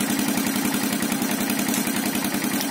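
A Yamaha AG200 motorcycle engine idles smoothly and close by, a steady low throbbing putter with even firing pulses and slight mechanical clatter, loud and alone without speech.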